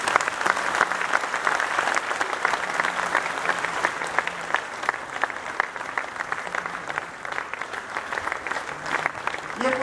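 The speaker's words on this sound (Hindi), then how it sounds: "आप जोरदार ताली बजाइए।" Sustained, loud applause from a large audience at a Jain religious discourse gathering fills the whole stretch, a dense, steady wash of clapping with little variation.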